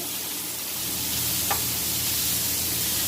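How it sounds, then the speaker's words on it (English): Food sautéing in a pan for a pork luau bowl, a steady broadband sizzle held at even loudness throughout, with one brief tick near the middle. "we are going to let this cook and saute and get all that goodness out of here"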